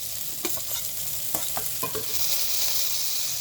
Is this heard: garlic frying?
yes